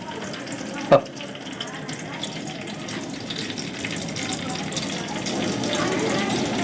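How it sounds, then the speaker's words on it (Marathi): A tadka of curry leaves sizzling in hot oil, cooked outdoors at a camp stop: a steady close hiss with a single sharp clack early on, growing slightly louder toward the end. "पिंट्या शीटने तेल टाकलंय तडका मारताय"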